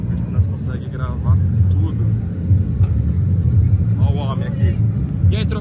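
Cars at a drift event in Japan give off a heavy low engine rumble that pulses and rises, close and loud, with people chatting nearby.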